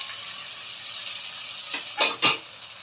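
A gentle sizzle of onion, coloured peppers and fish spice mix sautéing in a pan, steady and quiet, followed near the end by two quick scraping stir strokes against the pan.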